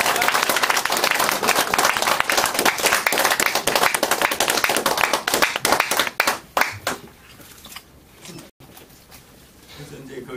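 Lecture audience applauding, dense loud clapping from many hands that thins into scattered claps and fades out after about seven seconds, leaving quiet room noise.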